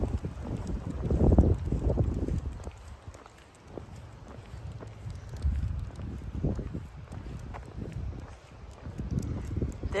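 Gusty wind buffets the microphone outdoors on a morning walk with dogs, a loud low rumble that surges and fades in waves across the whole stretch, with faint footsteps beneath.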